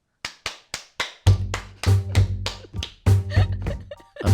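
Loud hand claps, first four quick sharp ones alone, then about ten more spaced at an uneven beat, each a crisp close smack, with a low hum ringing under the later claps.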